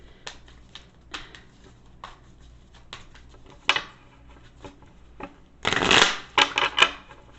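Tarot cards riffle in short, crisp bursts with pauses between, ending in a louder, longer shuffle and a few quick snaps, close up with no talking.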